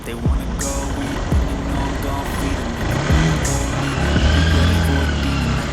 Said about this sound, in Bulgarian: Много движение днес.